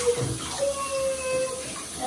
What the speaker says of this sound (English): Marcelo, then I will rinse your hair like